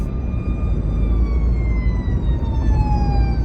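A siren wails steadily with gliding, rising and falling tones over continuous low traffic rumble, sounding somewhat distant.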